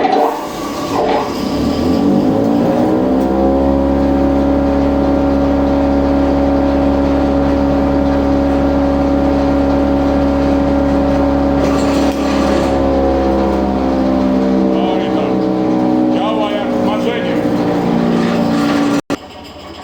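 Branch chipper shredder machine starting up and running, a loud, steady motor drone with strong harmonic whine held for most of the clip, then winding down before abruptly cutting off.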